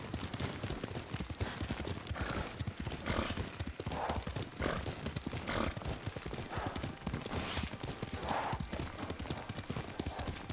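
A horse ridden in the video game Ghost of Tsushima sends out a quick, continuous clip-clop of hooves at a steady gallop, close and even, with faint background ambience.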